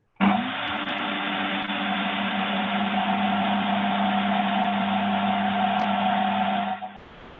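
A countertop blender pulses flour, butter and dry ingredients toward a sandy texture, starting abruptly with a loud, steady whirring motor drone that holds for several seconds before cutting off, with no talk.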